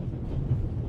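A train bound for Venice rolls steadily along in a game, giving a low, continuous rumble that stays even and moderately quiet for under a second with no talk.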